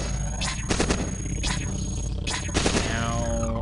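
A particle gun fires repeatedly in the Cogmind video game, several sharp bursts in irregular rhythm over a steady electronic hum, loud and close.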